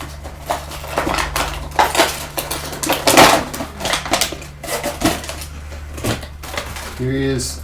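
Stiff plastic clamshell packaging crackling, crunching and snapping as a NECA Davy Jones action figure is pulled free, a dense close run of irregular cracks, a voice speaking at the very end.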